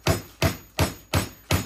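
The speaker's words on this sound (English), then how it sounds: "Here I am, trying to hammer out a meatball" Five sharp, evenly spaced hammer blows strike a meatball, each a loud, close thud with a quick decay, repeating at a steady rhythm.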